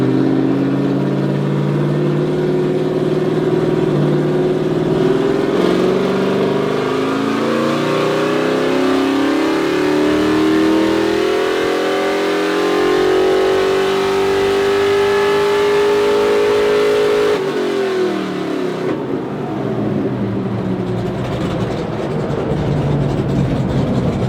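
A 572ci big block V8 in a K5 Blazer pulls hard on a dyno, its loud rising roar climbing steadily for about eighteen seconds before cutting off and settling to a rumbling idle.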